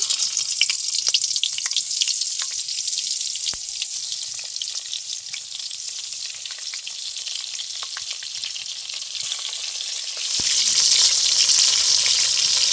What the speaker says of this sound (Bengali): তেল গরম হয়ে গেছে বেগুনগুলো এবার ভেজে নেব